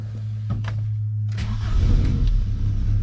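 A Volkswagen Golf engine is started: a short starter crank catches and the engine fires into a rising rev, then settles into a loud, close idle.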